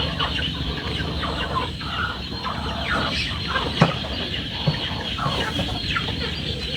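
Chickens cluck at a rural Thai home, with steady, overlapping clucks and short calls close by over a busy farmyard background.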